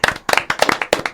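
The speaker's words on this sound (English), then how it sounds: "Let's give them a round of applause." A small audience claps at a live music collaboration on a talk show, with sharp, distinct handclaps in quick uneven bursts that sound close and moderately loud, and no speech.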